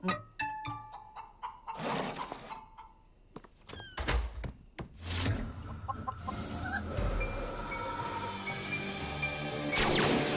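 A hen clucks repeatedly up close, with scattered knocks and shuffling noises around it and a busy, cluttered background.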